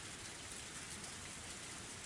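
Steady, even rainfall hissing softly and continuously, a cold downpour from the game Higurashi: When They Cry, faint and uniform with no voices.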